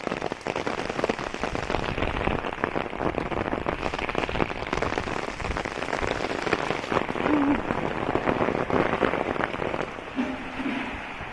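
Heavy rain pours down steadily, a dense continuous hiss of drops pattering on surfaces nearby, loud and unbroken, with a faint brief voice in the background near the end.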